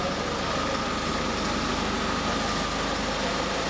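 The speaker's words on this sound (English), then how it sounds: "You mind turning off the engine?" A car engine idles inside a car elevator in Innsbruck, Austria, a continuous low rumble with steady pulsing, loud and enclosed, with no talk over it.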